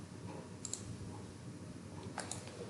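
A pair of light mouse clicks near the start and another pair near the end while closing a software project, over a constant hiss of room noise.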